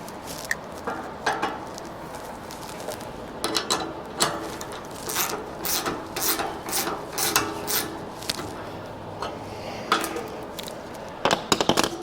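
Wrench tightening the mounting hardware bolts of an upTOP Overland roof rack on a Lexus GX 470, with a series of quick ratcheting clicks in short bursts, close and moderately loud, and no talk.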